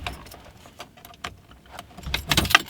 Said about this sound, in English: There's the key.